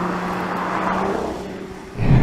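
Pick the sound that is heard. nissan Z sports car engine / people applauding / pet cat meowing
nissan Z sports car engine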